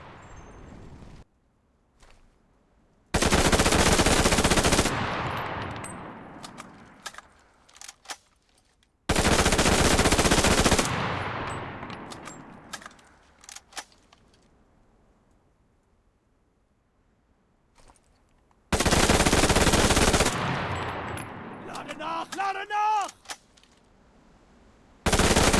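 A Beretta M1918 submachine gun in the video game Enlisted fires three long, loud, rapid automatic bursts at roughly 1000 rounds per minute, each followed by a decaying echo and clinking casings, with quiet gaps between.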